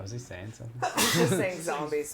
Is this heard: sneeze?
yes